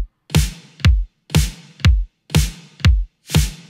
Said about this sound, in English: The kick and the snare sound like this, just a 4 on the floor pattern.